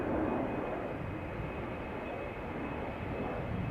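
A steady, continuous jet engine roar from an airliner taxiing on the ground at an airport, droning evenly at moderate distance without any voices.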